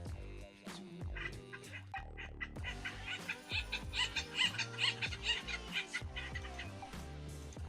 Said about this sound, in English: They believe it is to be based on the call of an acorn woodpecker,